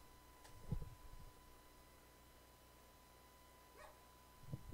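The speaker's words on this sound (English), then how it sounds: "This fucking dog has been barking." A dog barks faintly in the background, a couple of short distant yaps separated by quiet stretches, with a low steady hum throughout.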